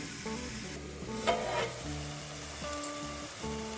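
Chopped onion and tomato fry on low heat in a pan, giving a soft steady sizzle with occasional scraping stirs and a few louder spatters, close and without talk.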